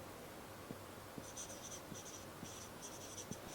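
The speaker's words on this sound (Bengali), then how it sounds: "লিখলাম" An example sentence is written out by hand in a classroom lesson. Quiet, scratchy strokes come in short bursts with small taps between them, steady and close, with no voices.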